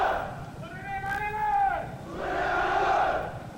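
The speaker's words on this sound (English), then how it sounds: "The Russians are barbarous, are murderers, chanted this downtown crowd as the Russian flag burned." Downtown crowd at an anti-Soviet protest rally in South Korea chanting in unison while the Russian flag burns, two swelling waves of massed voices filling the clip.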